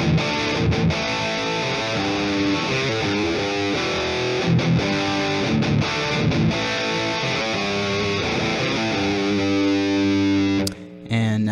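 Distorted electric guitar through an Emissary amp plugin with impulse response and reverb, playing chugging palm-muted riffs and sustained chords, loud and continuous before a brief cut near the end.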